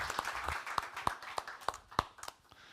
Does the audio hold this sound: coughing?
no